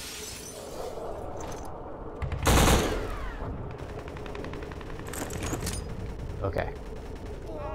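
A single loud shotgun blast goes off in a video game, a sharp broadband burst with a short decaying tail, set among steady game ambience while a person speaks briefly.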